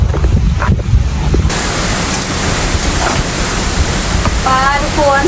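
Strong storm wind roars steadily and loudly throughout, a dense broadband rush like gusting air buffeting the microphone, with a faint voice briefly audible near the end.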